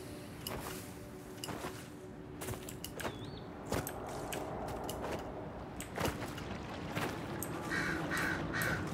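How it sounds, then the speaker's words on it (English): A crow caws a few times in the video game Dragon Age: Inquisition, fairly distant, among creaks, clicks and mechanical knocks. Background noise is steady and there is no talking. "Bird."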